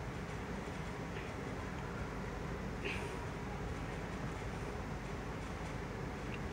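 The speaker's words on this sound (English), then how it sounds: "you can kind of hear the locomotives trying to pull the train" A steady low rumble of Norfolk Southern locomotives pulling a freight train over a large drawbridge, distant and continuous, with faint mechanical squeals now and then.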